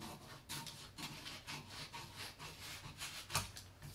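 Scissors cutting through a paper clothing pattern, soft rhythmic snips and rasping strokes at close range, with one sharper snip near the end.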